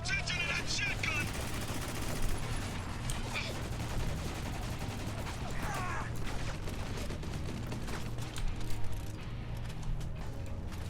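Turret gunfire in the shooter Spec Ops: The Line, sustained rapid bursts rattling over a low rumble of battle noise, steady and loud with occasional sharper cracks.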